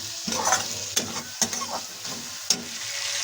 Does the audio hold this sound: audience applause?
no